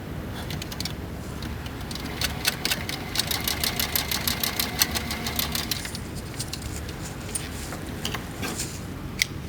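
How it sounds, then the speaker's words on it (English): A sewing machine top-stitches a cushion cover with a steady, rapid mechanical whir and needle chatter, running continuously at close range and picking up speed through the middle before easing off. "What I do here is I put a top stitch."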